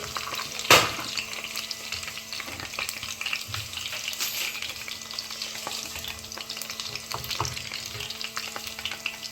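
Curry leaves frying in hot masala oil in a pan while cooking chicken 65, a soft steady sizzle with occasional stirring scrapes and one sharp clack near the start, no voices.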